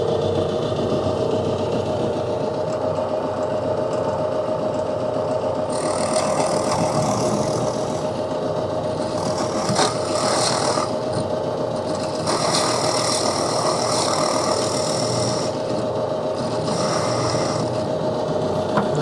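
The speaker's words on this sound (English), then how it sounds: "Run it at 1200 RPM in the drill press" A drill press running at 1200 RPM during a utility sled build in a woodshop: a steady, close motor whine and hum that carries on without a break, with bursts of higher cutting noise.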